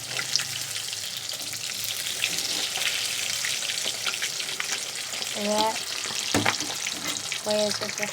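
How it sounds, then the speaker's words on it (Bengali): Fish frying in hot oil in a home kitchen, a dense continuous sizzle and crackle with occasional stirring clatter, close and fairly loud, a few brief voices in the background. "মাছ ভাজা হচ্ছে"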